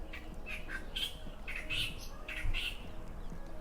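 Birds chirp and squawk outdoors in a string of short, bright calls spread across the stretch, moderately distant over a low background rumble.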